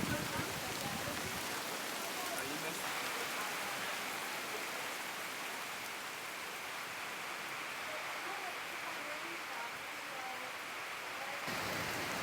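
Rain falls steadily on tents on Mount Mulanje, a dense, even hiss that continues throughout with no pauses, close and moderately loud.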